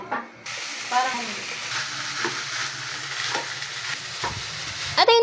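Leftover garlic frying in oil in a pan before making garlic fried rice, a continuous close sizzle and hiss with occasional stirring scrapes and brief clatter at the start and end.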